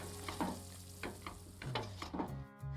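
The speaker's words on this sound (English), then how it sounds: "Because these broccoli stems are a bit tougher than the broccoli florets, let's start cooking them first for a couple of minutes." Broccoli stems cooking in a pan, a soft sizzle with a few distinct stirring scrapes at irregular intervals under light background music.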